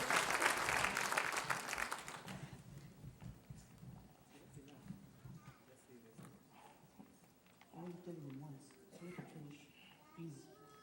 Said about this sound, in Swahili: Tumpigie Mhoyo makofi mazuri kwa sababu amejitia nguvu.